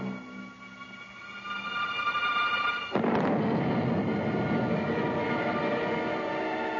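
An Atomic Annie atomic artillery gun fires at the Nevada test site, a single massive blast breaking in abruptly after a few seconds of quiet hum and then rolling on as a long, loud rumble.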